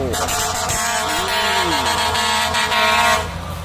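A Case IH 7000 series sugarcane harvester roars nearby, its loud engine drone joined by a blaring horn-like tone that bends in pitch before cutting off near the end.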